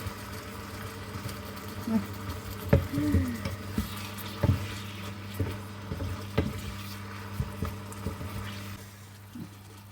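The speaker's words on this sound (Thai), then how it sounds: "ผัดผักน้ำมันหอยไปค่ะ" Vegetables stir-fried with oyster sauce in a wok sizzle softly while a utensil scrapes and clatters in irregular strokes, with a steady low hum underneath.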